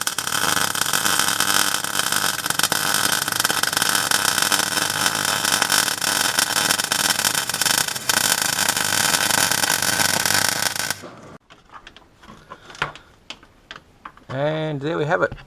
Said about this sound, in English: I'm just about to weld it in and she'll be done